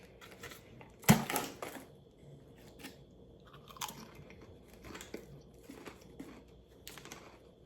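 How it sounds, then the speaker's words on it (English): Someone close by crunches and chews cheddar cheese flavored Pringles. A sharp bite is followed by several softer crunching bursts over quiet background noise, with no talking. "So now we're gonna try cheddar cheese flavored Pringles."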